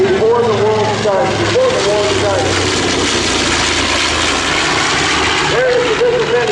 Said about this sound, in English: These airplanes, this twin-engine airplane, faster in the dive in World War II than many of the fighters we had before the war started.